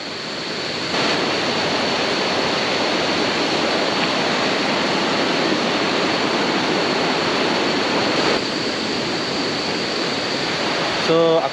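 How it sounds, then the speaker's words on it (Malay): A river flows steadily near the Lata Makau camp in Kuala Kubu Bharu, a loud, even broadband rush that holds unbroken throughout. "Sungai depan tu, ada sungai."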